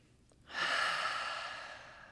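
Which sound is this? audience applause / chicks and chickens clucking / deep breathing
deep breathing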